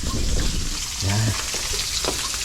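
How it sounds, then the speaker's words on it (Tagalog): Dried milkfish (bangus) fries in a pan with hot oil, giving a loud, dense, continuous sizzle and crackle up close, with a brief low thump partway through. "Nagpiprito ako ng bangus, yung aking dinaing na bangus galing ng Talisay"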